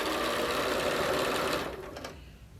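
Fast, steady whirring of a sewing machine stitching quilt pieces, close and even, slowing and stopping near the end with a few soft clicks.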